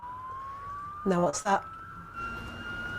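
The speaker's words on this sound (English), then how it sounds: "Oh no, it's an ambulance. Oh, and no, and a police. Oh, it's both." Ambulance and police car sirens pass together, a steady rising wail running through the whole stretch at moderate distance, with people talking briefly over it.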